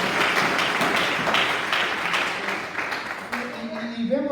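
A congregation applauds in church during a Spanish-language sermon, with loud dense clapping that thins out toward the end as a voice begins speaking.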